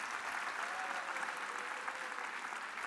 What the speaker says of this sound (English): you can give Cordell and my spotter a round of applause